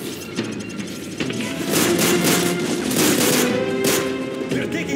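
Dense automatic gunfire in Call of Duty Modern Warfare 3, loud sustained bursts with rattling shots and faint shouting voices mixed beneath.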